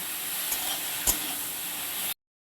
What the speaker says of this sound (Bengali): মাছগুলোকে উল্টে পাল্টে আমি ভেজে নিই